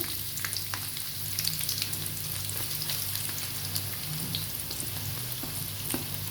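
Chopped onions frying in hot oil in a pan while making fried rice, a steady close sizzle with scattered crackles and pops throughout, no voices.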